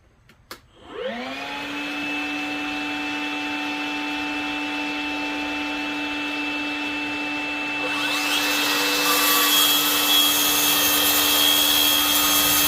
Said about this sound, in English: When you turn the vacuum on, the suction tends to want to hold in place too